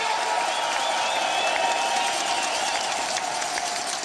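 Velodrome crowd cheering and clapping for cyclist Rohan Dennis during his hour record ride, a dense, loud, sustained roar of applause with a steady high hum running underneath.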